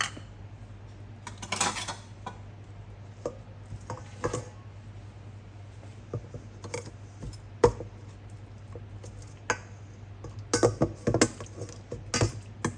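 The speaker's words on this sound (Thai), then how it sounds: "ผัดพริกแกงให้มีกลิ่นหอมก่อนนะคะ" Thai curry paste being stir-fried in a pan, with scattered clinks and scrapes of a utensil against metal over a low steady hum, mostly quiet with a few denser bursts of scraping.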